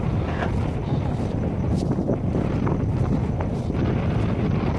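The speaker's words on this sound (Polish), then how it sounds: "Za mocny wiatr jest." Strong wind roars steadily across the microphone in an open field by an old aviation lighthouse, a loud, continuous buffeting rumble with no pause.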